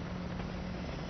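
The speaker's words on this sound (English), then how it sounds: "Oh, that's a transport chopper, isn't it?" A transport helicopter in Battlefield: Bad Company 2 gives off a steady, loud rotor and engine drone with a constant low hum, no voices.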